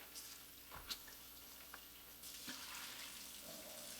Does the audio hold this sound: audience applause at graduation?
no